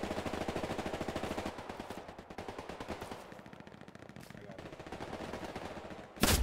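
Bursts of rapid automatic gunfire ring out in a Hell Let Loose battle, a fast rattling stream of shots that fades back a little midway and then builds again, ending in a sharp louder crack.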